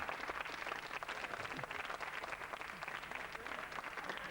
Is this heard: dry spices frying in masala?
no